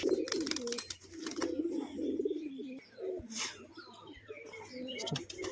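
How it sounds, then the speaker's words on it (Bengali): A pigeon coos repeatedly up close, low throaty rolling calls in a steady series, with some fluttering and faint background noises. "ভালো ডাকও আছে পায়রাটার"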